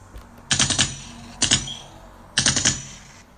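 Gunfire in three separate bursts of rapid, sharp shots, each a loud clustered volley close by, separated by short pauses.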